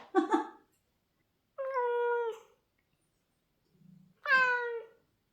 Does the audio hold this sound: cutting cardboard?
no